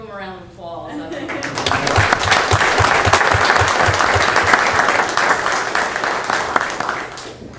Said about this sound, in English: Give him a round of applause, I think.